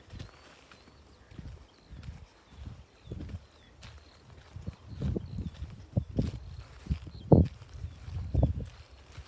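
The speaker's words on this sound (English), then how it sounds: "you'll just hear my feet clomping as they always do as we go along here" Footsteps clomp steadily along an outdoor farmland path, close by, growing heavier and louder as the walk goes on.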